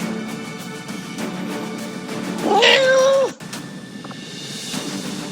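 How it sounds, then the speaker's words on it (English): A cat gives a single drawn-out meow with a rising then falling pitch, close and fairly loud, over a quiet background of video-game ambience and faint room noise. "Come here, kitty cat."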